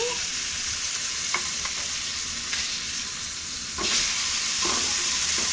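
Salmon fries in a pan with a steady, loud sizzle, giving a brief clatter and a sudden surge of hissing as the fillet is flipped.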